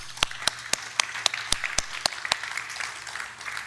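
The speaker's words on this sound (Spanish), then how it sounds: "¿Y sabes por qué aplaudimos?" An audience applauds at a bilingual church-style gathering, with sharp, loud claps landing in a steady rhythm at first, then thinning into softer, scattered clapping.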